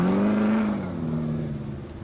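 An off-road race vehicle running on three-wheel drive after being winched out of a rocky V-shaped crack rises to a revving engine whine and then settles into a lower, steady drone, heard from a moderate distance.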